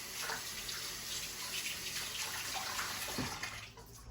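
Tap water runs steadily into a kitchen sink while hands are washed under it, a continuous close splashing rush with no talking, heard while macaroni salad is being made.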